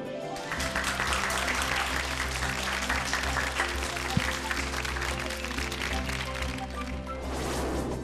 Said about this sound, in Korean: 여러분 박수로 환영해